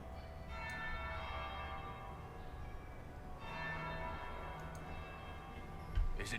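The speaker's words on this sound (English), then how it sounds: "That would be the second bell." A church bell tolls in Dragon Age Inquisition, with two or so resonant strikes whose ringing tones hang and overlap at moderate volume over a soft background hum, with no talking.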